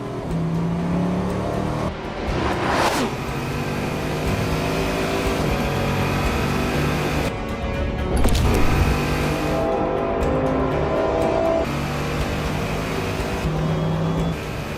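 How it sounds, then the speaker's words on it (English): A Bugatti Chiron Super Sport 300 with an 8-liter quad-turbo W16 engine roars continuously, loud and close, with rising and falling revs, gear-change surges and a brief whoosh of turbo air. "This is a Bugatti Chiron Super Sport 300. Its engine is an 8-liter quad turbocharged W16 masterpiece."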